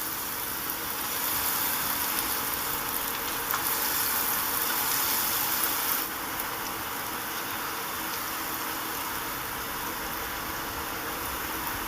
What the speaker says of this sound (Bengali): এবার সুজিগুলোকে ছোট ছোট করে বড়া ভেজে নেব